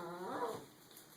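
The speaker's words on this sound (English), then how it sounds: "That's our dog, Nacho." A small Chihuahua gives one short, soft whine for attention, rising and fading within half a second, then only faint room quiet follows.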